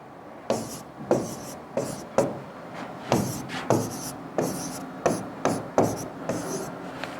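Chalk writing code on a classroom board: a dozen short scratchy strokes in an uneven rhythm, close and fairly clear, with no talking.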